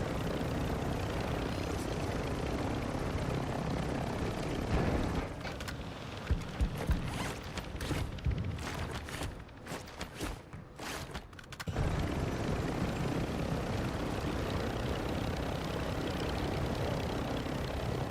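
A helicopter in the Call of Duty DMZ video game whirs continuously at a steady level, briefly dipping under clunky mechanical noises midway before returning to a constant drone.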